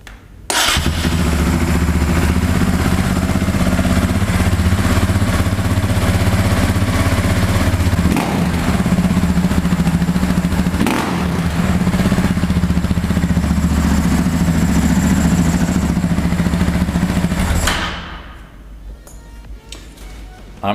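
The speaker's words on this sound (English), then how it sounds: "I should have a little sound test here to hear how the bike sounds" A 2009 Husaberg FE450 dirt bike engine idles loudly and steadily for most of the clip, rumbling with a mechanical clatter, then cuts off near the end.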